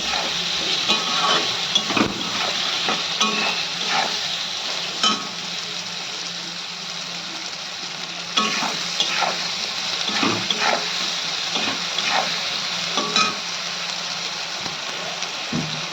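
Food frying in a pan gives a continuous hissing sizzle, broken by occasional scraping stirs and soft pops, with no voices.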